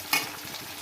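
A spoon scrapes once through ridge gourd and egg curry in a hot frying pan, followed by a soft, continuous sizzle.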